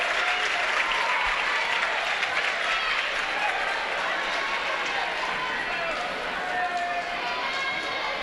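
A large crowd applauds steadily and loudly at a high school basketball game between the FCA Knights and Danville, a dense continuous wash of clapping and cheering filling the gym.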